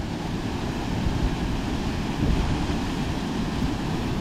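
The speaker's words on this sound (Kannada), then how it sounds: "ಆ ನೀರು ಬೀಳೋದು ಇಲ್ಲಿ ಮೇಲೆ ನಿಂತಿದ್ರು ಮುಖಕ್ಕೆ ಹೊಡಿತಾ ಇದೆ, ಅಷ್ಟು ಫೋರ್ಸ್ ಇದೆ ನೀರು" Water from a Kaveri river waterfall at Chamaraja Katte near Chunchanakatte pours down with force, a dense, steady roar heard close and without talk.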